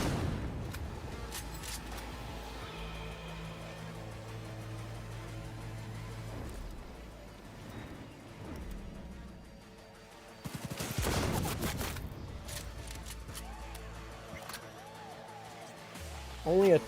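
Game gunfire from Cyberpunk 2077 mixes with music and ambience; a heavy sniper rifle shot lands near the middle, set against a busy background, while a player occasionally speaks.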